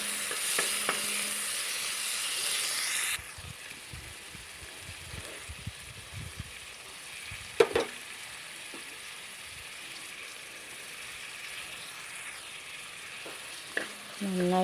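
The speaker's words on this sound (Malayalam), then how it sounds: "ബ്രൗൺ കളർ ആവാതെ തന്നെ നമുക്ക് ഇതിലേക്ക് പച്ചമുളക്, ഗാർലിക്, ജിഞ്ചർ പേസ്റ്റ് ഇട്ട് കൊടുക്കാം" Onion sautés with green chilli, garlic and ginger paste, first as a bright steady sizzle, then softer frying hiss with scattered spoon scrapes and stirring clinks close up in the pan.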